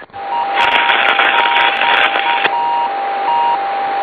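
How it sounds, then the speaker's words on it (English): A Soyuz TMA-07M landing locator beacon sends out intermittent beeps, a thin steady tone pulsing on and off at regular intervals, heard over a loud hiss of radio static on the communications channel. "you also hear the intermittent beeping sound. Good. It's a beacon that is emanating from the Soyuz craft"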